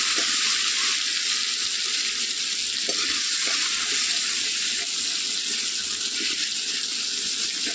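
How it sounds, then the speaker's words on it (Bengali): Potatoes seasoned with turmeric and salt frying in a pan, a continuous bright crackling sizzle that holds steady throughout, with a few soft stirring clicks, close and moderately loud. "আলুগুলোকে এবার ভেজে নেব।"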